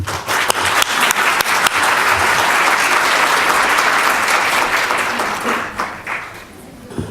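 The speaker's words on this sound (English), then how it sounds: "Please, if you would, give a round of applause for Ed." Sustained applause from a sizable audience at a court reporting and captioning event, loud and dense throughout, thinning out near the end.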